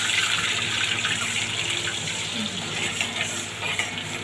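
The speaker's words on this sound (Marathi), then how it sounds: "मी आता याच्यामध्ये थोडं पाणी ओतून घेते" Water poured into a pan holding curry leaves and green chillies for Gujarati khaman dhokla, a dense continuous rushing splash and hiss that stays loud and close for the whole few seconds, no voices.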